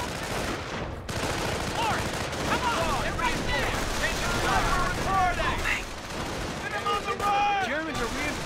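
Machine gun emplacement firing in the Company of Heroes American campaign, dense bursts of rapid gunfire with battle noise and explosions, overlaid by in-game voice callouts.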